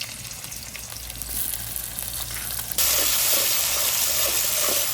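Onion, bay leaf, cumin and spices frying in a pan for a village-style fish curry, a steady close sizzle that jumps suddenly louder and brighter partway through.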